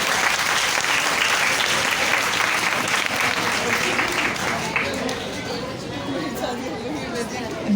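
A school crowd claps steadily for a young girl after a magic trick at an annual result ceremony, the sustained applause mixed with loud chatter and voices throughout.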